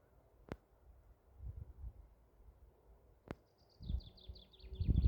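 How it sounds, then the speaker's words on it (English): A short series of faint, high bird chirps in the distance over low outdoor rumble, with a couple of sharp clicks. "I hope you can hear the birds chirping."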